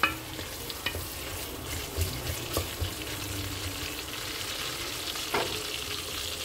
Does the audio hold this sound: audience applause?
no